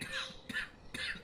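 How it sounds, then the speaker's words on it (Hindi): A man coughs three times in quick succession, each cough a short, raspy burst spaced about half a second apart, fairly close and alone with no talking. "खांसते हुए उनके सामने आकर खड़े हो जाते हैं"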